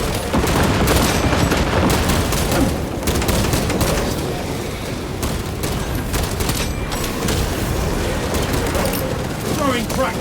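Crack grenade explosions and sustained gunfire in the Warhammer 40k video game Space Marine 2, a dense, loud wall of combat noise with booms and rapid shots, plus bursts of voice over the top.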